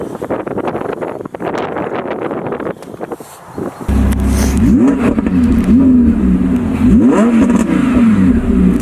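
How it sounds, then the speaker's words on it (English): Sports car revving at a roadside photoshoot where a Nissan GT-R and an Audi R8 V10 are present, a loud engine rising and falling in several sharp revs, with wind buffeting the microphone throughout. "Little baby revs there."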